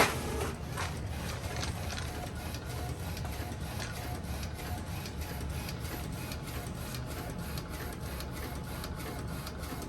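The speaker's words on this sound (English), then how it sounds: "Now our printer is going to print." Printer running a sublimation print job, a steady close mechanical whir overlaid with rapid regular ticking of the print head sweeping back and forth, continuous for the whole stretch.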